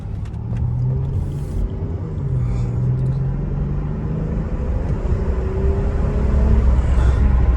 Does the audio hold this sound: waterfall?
no